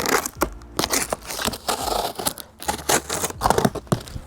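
Scissors snipping through cardboard in quick, irregular bursts of crisp cuts, close up, with brief pauses and rustling between strokes.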